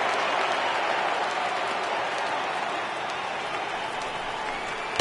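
Stadium crowd in the baseball video game MLB The Show 18, Cubs versus Reds, a sustained roar of cheering and applause from a large crowd, loud and even throughout without commentary over it.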